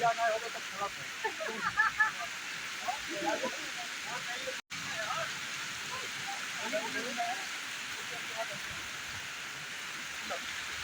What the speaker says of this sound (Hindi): ये एक झरना है उत्तराखंड में।